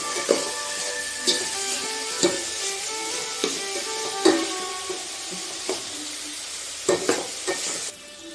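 Food sautés in a pan with a continuous sizzle, while a spoon or spatula scrapes and clinks against the metal every second or so, close and moderately loud.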